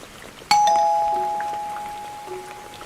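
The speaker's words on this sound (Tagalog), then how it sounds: "Nang biglang may nag-doorbell." A single electronic doorbell chime rings out once in a quiet room, a clear bright tone with a second note, sustained and slowly decaying over a faint rain-like background hiss.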